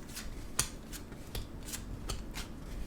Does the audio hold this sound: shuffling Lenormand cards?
yes